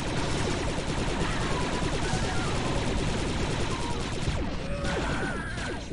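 Rapid blaster and gunfire from the Star Wars Republic Commando shooter rattles in a dense, continuous loud stream of overlapping shots, easing slightly near the end.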